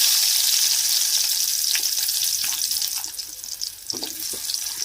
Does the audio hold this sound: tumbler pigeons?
no